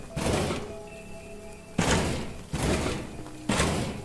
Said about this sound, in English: Darn it, the door won't budge open.